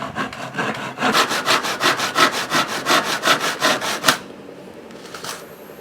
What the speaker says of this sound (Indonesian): Kita mulai lagi membelah dengan gergaji belah.